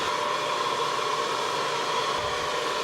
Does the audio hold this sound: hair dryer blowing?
yes